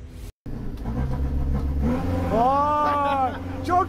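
A minibus engine revs up with a throttle blip while driving, a rising mid-pitched whine that swells and falls back, heard under people talking.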